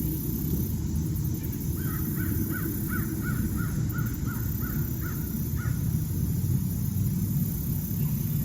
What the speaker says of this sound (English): Bird that way, there's a bird over there. Lots of birds.